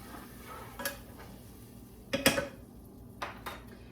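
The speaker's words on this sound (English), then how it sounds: "Okay, I'm going to stir this right now." A utensil clinks and scrapes against a pan while sauce for a cream-and-parmesan chicken dish is stirred, a few distinct taps spread out over a quiet background.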